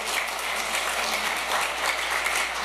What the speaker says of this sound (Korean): 여러분을 위해서 한번 박수 안 치실래요?